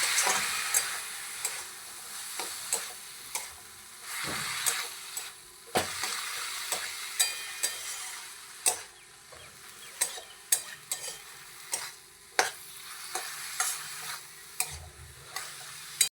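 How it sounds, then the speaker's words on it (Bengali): Boiled plantain being stirred in hot spiced oil in a pan, with a steady low sizzle and repeated sharp ticks of the spoon scraping the pan, close up and with no talking. "এবার সিদ্ধ করে রাখা কলা মাছাটা দিয়ে দিলাম। কলা মাছাটা দিয়ে ভালো করে নাড়বো।"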